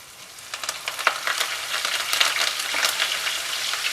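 Chopped ginger and curry leaves hit hot oil in a tempering for vagharelo rotlo, crackling and popping in quick irregular bursts over a continuous loud sizzle, with no voices.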